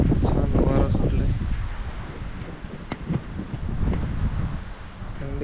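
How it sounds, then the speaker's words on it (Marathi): Wind gusts steadily at a viewpoint of a jungle resort, a broad rushing roar buffeting the microphone with a few faint voices in the background. "छान वारा सुटले"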